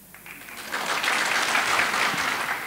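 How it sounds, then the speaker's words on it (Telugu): An audience at a Telugu singing competition in Australia applauds a singer, with the clapping building from a few hands into dense, sustained applause that fills the room. "ఇప్పుడు అమ్మాయి ఫస్ట్ పాడిన దానికి ఎంతసేపు చప్పట్లు కొడతారు?"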